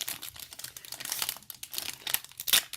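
A Pokémon card booster pack is torn and crinkled open by hand, with close, quiet crackling of foil wrapper in short irregular bursts and no talking.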